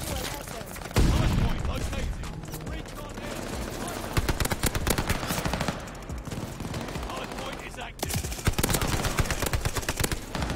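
SMG fire rattles in fast bursts during Call of Duty: Vanguard gameplay, repeated volleys close and loud, with a player's voice talking over parts of it.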